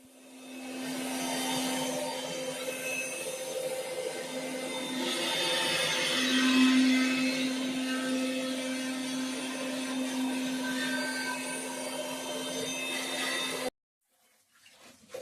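Kitchen mixer grinder blending garlic, ginger and shallots for a village-style fish fry masala, a loud steady motor whine for about thirteen seconds that stops abruptly, followed by near silence.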